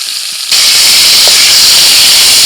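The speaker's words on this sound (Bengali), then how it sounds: "তেলের মধ্যে ফোড়নে দিচ্ছি তেজপাতা এলাচ দারচিনি লবঙ্গ" Bay leaf, cardamom, cinnamon and cloves hit hot oil that has just fried pointed gourd, bursting into a loud, sustained sizzling hiss after a brief quiet start.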